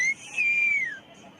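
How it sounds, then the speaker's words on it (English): A single loud human whistle from a cricket fan, one sustained piercing tone that rises briefly, holds, then slides down and fades, heard alone. "let's hear the whistle"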